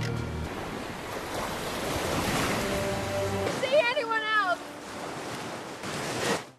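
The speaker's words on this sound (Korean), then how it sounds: "파도 속에서 일행들은 모두 뿔뿔이 흩어지게 되고" Ocean waves surging and rolling in a film scene of a shipwreck escape, a steady loud wash of surf with a brief tonal sweep partway through and no speech.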